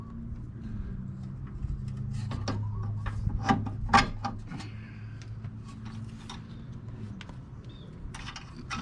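Wrench clicks and small mechanical knocks while a tie rod nut is tightened on a 1999 Toyota Corolla, near and intermittent with a few sharper taps over a low background hum.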